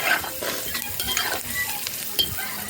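Food frying and being stirred in a frying pan for a dinner dish, a steady close sizzle with scraping stirring strokes throughout and no talk.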